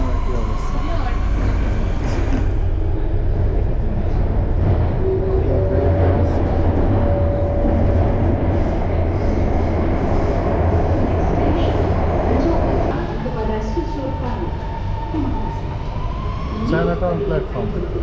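A metro train running on an elevated sky-train line, heard from inside as a steady loud rumble with a brief tonal whine midway and a shift in pitch near the end, as if braking.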